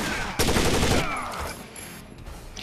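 A short, loud burst of gunfire in the tactical shooter Rainbow Six Vegas 2, cracking out abruptly, then fading into quieter game ambience.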